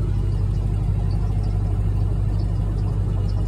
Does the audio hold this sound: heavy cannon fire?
no